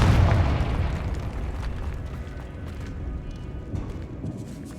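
Confringo fire spell explosion in the Hogwarts Legacy video game, a loud booming blast at the start that trails off into a rumbling, crackling decay.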